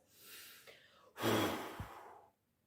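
Long, forceful exhale during a children's speech-breathing exercise, a soft breath followed by a stronger, rushing blow that fades out, close and alone with no talking.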